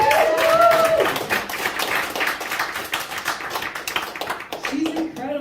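An evening event audience claps and applauds for a sponsor and sound technician, giving a loud, dense burst of hand claps that tapers slightly, with voices and cheers mixed in.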